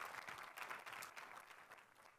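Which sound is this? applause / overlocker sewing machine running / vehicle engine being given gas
applause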